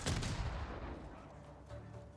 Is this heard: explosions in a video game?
yes